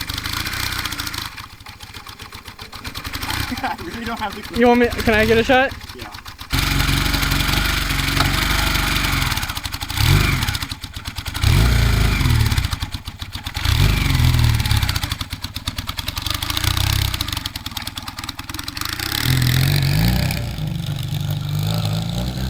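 A vintage Honda or Suzuki motorcycle engine idles and revs in rough bursts close by, with clattering mechanical noise and brief pauses, while people talk over it.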